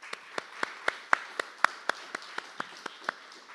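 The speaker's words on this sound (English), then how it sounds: "May we give them one last round of applause?" After a talk on the history of unfree labor around the Alamo, faint, sparse applause is heard as evenly spaced single claps at a steady pace in a quiet room.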